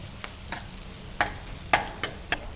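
Onions frying in a pan for baby corn biryani, a soft sizzle with several sharp scraping stirs of a spoon, close and fairly quiet.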